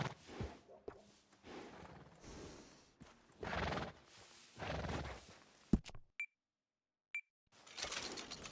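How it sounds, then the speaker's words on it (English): In the video game Red Dead Redemption 2, a workhorse whinnies and snorts close up amid clip-clopping hooves and game sounds. A quiet pause follows, broken by two short electronic beeps, then more horse noise. "I got a fella who's been looking for a decent workhorse like this for a while."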